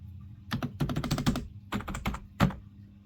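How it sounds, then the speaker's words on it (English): Computer keyboard keys clack in quick clustered bursts of typing close by, with short pauses and one firmer thunk near the end. "Look at this keyboard!"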